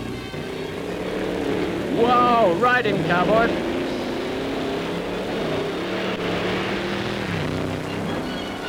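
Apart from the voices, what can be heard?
two Allard cars roaring up a steep hill climb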